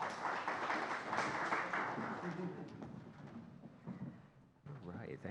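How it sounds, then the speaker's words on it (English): Audience applause for speakers at a media literacy education forum, a dense wash of clapping filling the room for several seconds, dipping briefly near the end before swelling again. "Let's give our speakers a round of applause"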